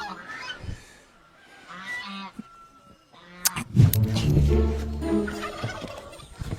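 A chicken squawks and cackles loudly and frantically as it is grabbed, in a burst of harsh, close calls that dominates the second half, after a quieter stretch with people talking.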